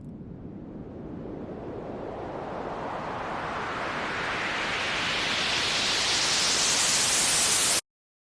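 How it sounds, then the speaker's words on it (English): White noise built in BandLab runs through an opening filter, starting as a low muffled rush and steadily brightening into a full hiss over about eight seconds before stopping abruptly. "The opening filter gives us a sweeping effect."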